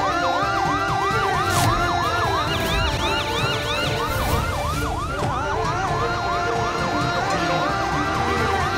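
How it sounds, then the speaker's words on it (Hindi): An ambulance siren wails loudly and continuously, its pitch sweeping up and down in rapid repeating cycles over steady traffic noise. "एम्बुलेंस सायरन की आवाज"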